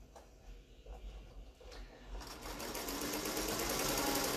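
A sewing machine double stitching a cork tote bag, starting with quiet handling and short bursts, then running as a steady, close buzzing whir.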